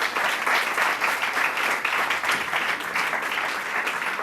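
A large audience at a university education fair breaks into sustained applause, dense clapping at steady volume throughout.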